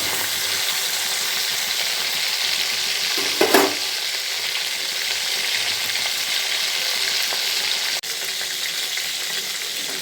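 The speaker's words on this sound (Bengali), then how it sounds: "এবার মাছগুলো আমার ভাজা হয়ে গেছে" Hilsa fish pieces fry in hot oil in a pan for mustard hilsa, giving a steady loud sizzle throughout, broken by a brief stirring clatter partway through.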